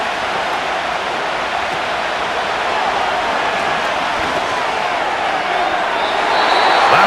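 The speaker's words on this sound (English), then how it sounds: "What about this crowd getting even louder before 3rd and 10?" Stadium crowd in a Madden NFL 25 Titans versus Colts football game roars with a dense, steady wash of cheering that swells louder toward the end, building before a third-and-ten play.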